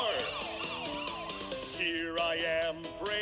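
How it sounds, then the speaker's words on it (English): A toy police car siren wailing in rising and falling electronic sweeps, close and fairly quiet, alone for a few seconds. "turning my siren on"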